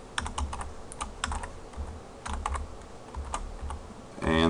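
Steady typing on a computer keyboard while entering SQL into an Oracle 10g XE table definition, with uneven clusters of clicky keystrokes and short pauses, heard up close with no talking.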